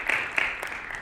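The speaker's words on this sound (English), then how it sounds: "Let's give them applause." A brief burst of audience clapping in a live studio setting, a short scattered patter that fades quickly.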